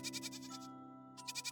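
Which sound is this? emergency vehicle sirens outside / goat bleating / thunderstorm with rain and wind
goat bleating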